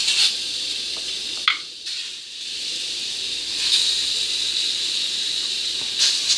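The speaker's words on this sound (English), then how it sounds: "And you want to hear that sizzle" Pork ribs sizzling in a hot pan while being cooked for Spanish barbecue ribs, making a steady close frying hiss with brief louder crackling bursts and stirring sounds, with no voices.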